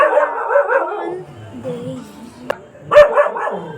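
A dog barks and yips in short, sharp bursts at close range, with whiny, howl-like cries between them, while a person talks nearby.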